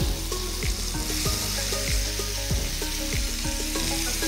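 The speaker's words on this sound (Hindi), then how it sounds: "2 टीस्पून मैंने ऑयल डाला और सेकंड बैच को भी मैं इसी तरह फ्राई कर" Pieces of mutton frying in a small amount of oil, a loud, steady sizzle with crackles and occasional stirring or scraping sounds, and no talking.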